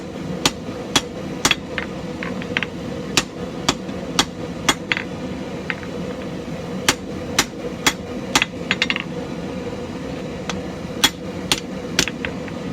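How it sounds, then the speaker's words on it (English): A hammer strikes a hot wood rasp on an anvil during forging, with sharp ringing metallic blows at a steady, unhurried pace, some lighter taps between, close and loud over a low workshop hum. "just use the edge of the anvil and the toe of your hammer and do a set down"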